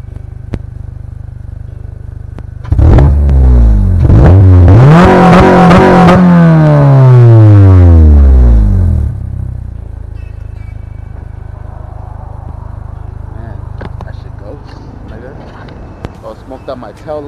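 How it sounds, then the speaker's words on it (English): A 2006 Honda Civic Si engine with a reverse cam revs loudly into VTEC through a plain exhaust for several seconds, pitch climbing and falling, then drops back to a low idle. "It's a plain old exhaust, but it sounds loud."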